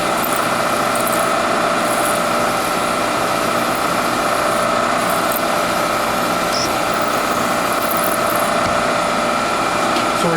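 A drill bit boring deep into metal on a lathe-style setup, with a steady loud whine and mechanical hum running continuously, no talk.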